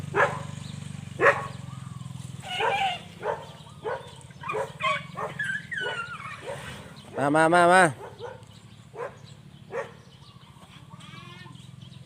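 A dog outdoors gives several short, sharp barks and yips scattered through the stretch, with a louder whining burst near the middle, under frequent nearby talk and a low engine-like hum.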